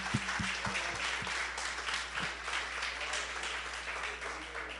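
Church congregation applauding, a broad continuous wash of clapping with a few low thumps early on and a voice faintly under it.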